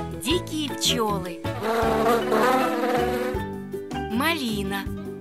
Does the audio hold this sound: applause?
no